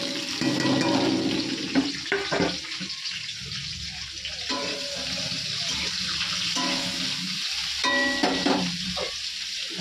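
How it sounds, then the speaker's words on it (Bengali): Bitter gourd and potato fry in hot oil in a wok, a continuous loud sizzle and crackle with occasional stirring scrapes close by. "উচ্ছে আলুটা ভাজবো।"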